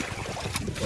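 Wind blowing over open sea around a small fishing boat: a dense, steady roar and buffeting across the microphone, loud and continuous with no talk.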